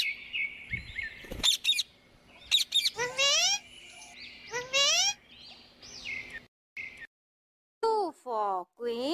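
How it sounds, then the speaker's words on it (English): A parrot in a children's phonics song lets out a series of chirpy, whistling squawks with sweeping pitch, interspersed with short musical stabs and brief gaps of silence. "P for parrot."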